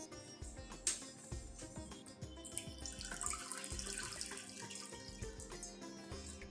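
Water pours in a steady splashing stream into flour batter for several seconds, with faint dripping and sloshing, no voices.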